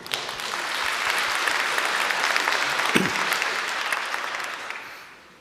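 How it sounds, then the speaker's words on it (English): An audience at a design talk in Oslo claps steadily for several seconds, a broad wash of applause that swells, holds, and tapers off at the end. "Yes, the applause is earned."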